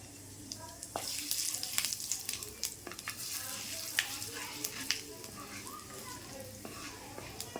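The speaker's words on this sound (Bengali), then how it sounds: "এবার আমি একটা শুকনো লঙ্কা 2টো টুকরো করে দিয়ে দেব, আর দিয়ে দেবো 5 ফোড়ন।" A dried red chilli broken in two and panch phoron (five-spice) frying in hot oil in a kadai, with a soft, steady sizzle and small crackles while a person talks.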